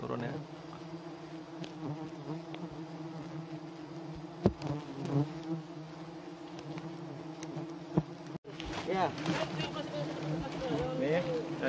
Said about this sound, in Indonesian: Ini adalah lebah Apis dorsata.